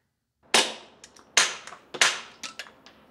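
A suppressed rimfire rifle fires through a PWS BDE suppressor: three sharp, close reports about half a second apart, each with a fast-decaying tail and lighter mechanical clicks after, in an otherwise quiet outdoor setting.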